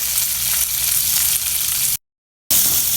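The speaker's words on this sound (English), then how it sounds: "Stir fry them all together." Chopped okra stir-fries in hot oil with tur dal, methi seeds and dry red chillies, a steady loud sizzle that cuts out briefly before resuming.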